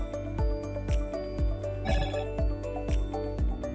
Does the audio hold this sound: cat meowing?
no